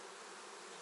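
Honeybees buzz in an opened spring hive among frames of brood, a dense, continuous hum filling the short moment at close range.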